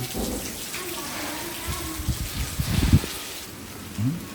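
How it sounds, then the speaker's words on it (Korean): Steady rain falls in Bintan, Indonesia, heard from a restaurant, a broad hiss with soft drops continuing throughout, with some faint murmuring and clatter in the background. "비가 오고 있는 빈탄 둘째 날 주룩주룩주룩주룩"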